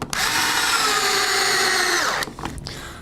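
A power driver runs screws while a front gear platform is being replaced, one loud, close, sustained whine with falling pitch lasting about two seconds, then stopping into brief handling noise.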